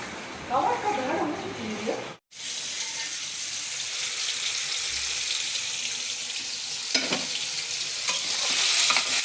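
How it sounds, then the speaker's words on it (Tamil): Potato and green pea gravy cooking in a pan, with a continuous close sizzle, watery bubbling and brief stirring scrapes, and a voice speaking faintly at the start. "இது உருளைக்கிழங்கு பட்டாணி கிரேவி மாதிரி பண்ணுறேங்க"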